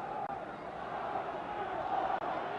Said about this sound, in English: And the crowd is starting to urge Patterson on.